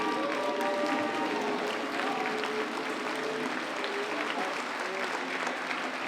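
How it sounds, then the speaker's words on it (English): Sustained standing applause from a banquet audience at a county bar association's 100th annual installation banquet, dense clapping with scattered voices and cheers mixed in, steady and fairly loud throughout. "applause to Dean and Julia?"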